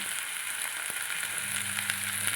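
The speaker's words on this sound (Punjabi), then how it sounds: "ਨਾਲ ਹੀ ਪਾ ਦਿਓ ਆਪਾਂ ਪਿਆਜ਼" Onions frying in a pan on a gas stove give off a steady, dense sizzle that hisses on without a break. No one speaks over it.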